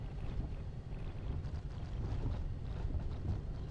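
Small plane touching down on the runway at Whittier Airfield in Alaska, low engine drone and wind buffeting across the microphone, a steady rumble with no speech.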